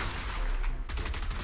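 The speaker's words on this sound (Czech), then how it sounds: "Kámo, s čím to po mě střílí týpek." Gunfire in the Fortnite video game: a rapid burst of shots rattles out late in the moment over a busy, noisy game soundscape.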